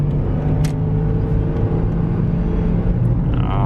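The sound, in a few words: car engine revving with a late gear change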